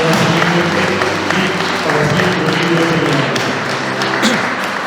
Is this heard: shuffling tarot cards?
no